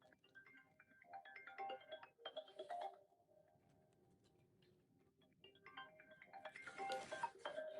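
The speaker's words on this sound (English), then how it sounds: "Getting a phone call." A mobile phone rings with an incoming call, a repeating electronic ringtone melody in bursts with a quieter gap in the middle, heard indoors at moderate volume.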